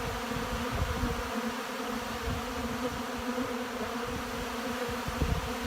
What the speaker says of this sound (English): You just clouds of bees while they forage, actively forage on this supplement.